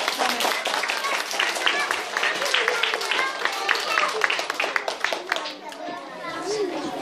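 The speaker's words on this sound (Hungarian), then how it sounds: "még egyszer tapsoljuk meg a zenészeket" Kindergarten children clap for visiting music-school musicians in a lively room, dense patter of small hands mixed with steady child chatter throughout.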